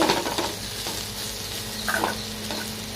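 Ivy gourd (kovakkai) seasoned with chilli powder is stir-fried in a pan, with a continuous close sizzle and scraping stirs that grow slightly louder near the end, and no voices.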